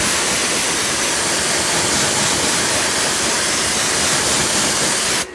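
Steady, loud spray of water hissing continuously at close range as a car wheel is rinsed, cutting off abruptly at the end.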